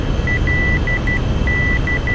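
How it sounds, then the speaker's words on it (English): Repeated electronic cockpit warning beeps from an SR-71 Blackbird in Flight Simulator X, a steady high tone pulsing in short and long bursts over a constant low engine rumble. "What is with the beeping?"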